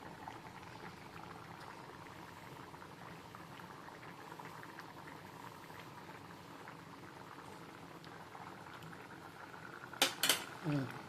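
Okra curry (bendakaya pulusu) simmering in a pot, a soft continuous bubbling boil throughout, with a brief clatter of utensils near the end.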